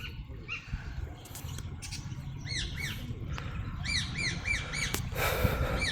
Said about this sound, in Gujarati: જો પક્ષી ઘરમાં પોપટ બેઠા છે.